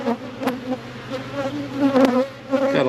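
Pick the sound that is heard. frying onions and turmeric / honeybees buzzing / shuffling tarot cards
honeybees buzzing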